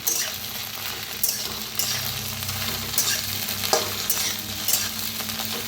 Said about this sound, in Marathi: तर कढाईत थोडंसं तेल वतलेलं आहे। आज मस्त मॅगी मसाला भेंडी बनवायची। तर भेंडी छान अशी भाजून घ्यायची।